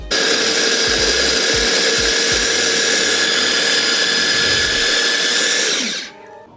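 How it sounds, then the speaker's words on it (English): A kitchen food processor whirs loudly and steadily as it blends chopped onion and carrot for sausage roll filling, running continuously for about six seconds before spinning down and stopping. "roughly chop it up into the food processor and blend it all together"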